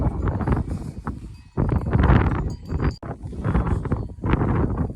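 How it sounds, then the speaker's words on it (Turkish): Gusty wind buffets the microphone in loud, uneven bursts on a foggy upland pasture, with faint bell tinkles from sheep nearby. "Biraz da rüzgar var yer yer hışırtı yapacaktır."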